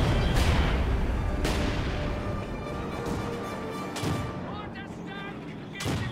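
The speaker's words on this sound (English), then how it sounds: "Vet 3 Brit mortar" A veteran British mortar in Company of Heroes 2 fires and lands repeated heavy booming blasts at spaced intervals under a dense battlefield din, with a commentator talking over it.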